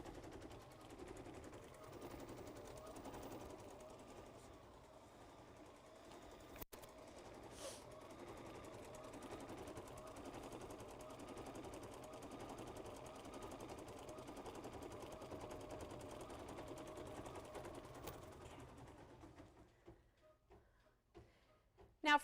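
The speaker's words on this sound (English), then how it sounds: "these cinch sacks were all made, see in here, were all made in the embroidery hoop" A computerized embroidery machine stitches a design held in a hoop, a faint, steady rapid needle clatter with a rhythmic mechanical pulse running for about twenty seconds before stopping.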